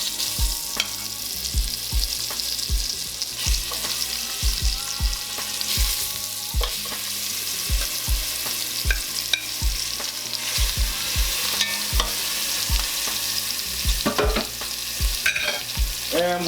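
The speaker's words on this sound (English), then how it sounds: "Gonna go in with our other batch of short ribs" Beef short ribs sear in a hot pan with a constant loud sizzle, broken by regular knocks and scrapes as the meat is moved and stirred, close up with no talking.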